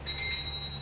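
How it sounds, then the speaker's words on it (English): A small handbell shown to children in a classroom senses lesson, struck once with a bright high-pitched ring that sustains and slowly decays, with no talk over it. "the last one we have here, a bell."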